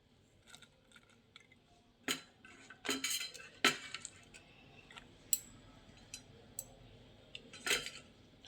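Onion and coriander pounded by hand in a bowl while making a brinjal dish, giving several sharp, irregular knocks and clinks spread across the clip, fairly close, with quiet gaps between strikes and no talking.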